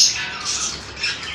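Pet parrots give a couple of harsh, piercing squawks close by, rising and falling in short bursts with no talking.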